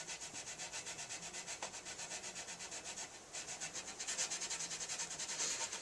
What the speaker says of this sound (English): steel wool impregnated with oil and wax. I'm just trying to discolor it